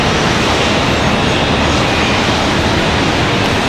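Embraer E175 jet taxiing across a taxiway at Charlotte Douglas airport, a loud, dense, steady engine rumble and roar that fills the whole clip without a break.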